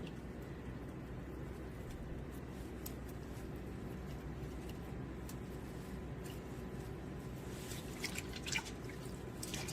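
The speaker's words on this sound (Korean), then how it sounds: "이렇게 물에 헹궈 주시면 알 껍질만 나와요" Pollock roe being rinsed in a bowl of water to separate the egg membranes: a steady, soft watery swish with faint drips and trickles throughout, close by, with no voices.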